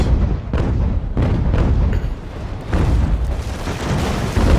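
Sailing-ship cannons fire in the naval battle game Ultimate Admiral: Age of Sail, a run of loud, deep booms with rumbling decay, some overlapping and some spaced out across the whole stretch.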